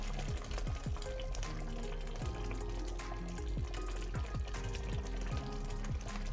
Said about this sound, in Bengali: বেশ ভালোভাবেই ফুটছে।